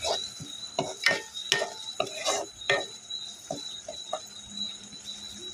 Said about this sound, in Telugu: వాటర్ వేసుకున్నాక ఒకసారి బాగా కలుపుకోవాలి.